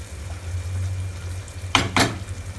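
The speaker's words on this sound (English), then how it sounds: "Mix it." Soya fry with chopped coriander and ghee stirred in a pan, two quick scraping strokes of a spoon after a stretch of low steady hum, close and moderately loud.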